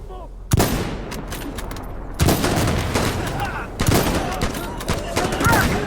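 Rifle fire in the video game Insurgency Sandstorm, heavy close shots with sharp cracks followed by long rolling echoes that fill the gaps, repeated every second or so and at times overlapping into dense volleys.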